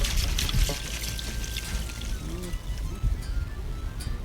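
Water from an RV black tank flush drains steadily in a continuous pouring, trickling rush, with brief murmured voices and faint background noise over it.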